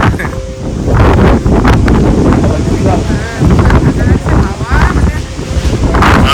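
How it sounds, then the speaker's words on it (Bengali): Strong wind batters the microphone at Edinburgh Castle in loud, continuous rumbling gusts, with a person speaking through the roar. "মারাত্মক এরকম হাওয়া"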